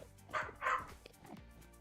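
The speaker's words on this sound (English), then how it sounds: "My dogs are barking really loud." Dogs bark in two close, loud bursts, then give a few softer yips, with room noise underneath.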